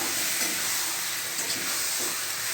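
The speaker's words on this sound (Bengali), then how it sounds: "রান্নাটা একসঙ্গেই কষা হবে মাংসটা আলুটা" Marinated meat and potatoes sauté together in a pan, producing a continuous, even frying hiss with no breaks or voices over the short stretch.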